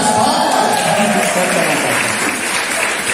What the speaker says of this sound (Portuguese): Várias palmas!